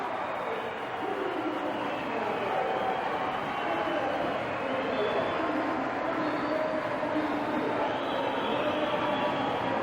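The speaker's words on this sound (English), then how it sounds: "Look at the crowd standing and screaming here at Kezar" A packed Kezar crowd at a 1973 San Francisco roller derby, Bay Bombers versus Pioneers, roars on and on from the upper decks, a dense, unbroken wash of cheering and screaming with a commentator talking over it.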